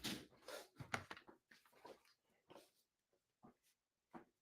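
A dog close by makes faint whimpers and breathy huffs in short, irregular bursts, with quiet pauses in between.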